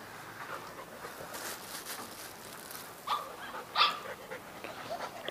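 A golden retriever gives a few short, sharp yips and whimpers at close range, spaced apart over steady low room noise, with no talking.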